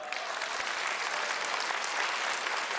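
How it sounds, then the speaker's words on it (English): Applause from the crowd at an iUmor stand-up comedy show, a dense, continuous wash of many hands clapping, evenly sustained and fairly distant, with no speech over it. "Applause."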